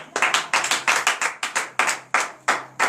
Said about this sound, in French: Donnez l'acclamation à ce groupe.